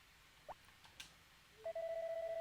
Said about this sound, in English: then you come here to use this phone to order it